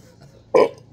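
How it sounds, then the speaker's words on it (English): One loud, short burp after drinking Bazooka bubblegum-flavored soda erupts close up after a near-silent moment, then stops. "Bazooka bubblegum flavored soda burp."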